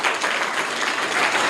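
Schoolchildren in a government school classroom in Bihar applaud a correct quiz answer, a dense, steady burst of many small hands clapping together, close and fairly loud throughout.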